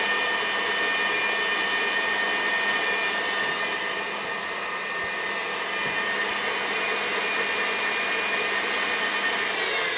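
An electric mixer running on high speed while whipping gorgonzola butter, a steady close whirring hum with no pauses and no talking.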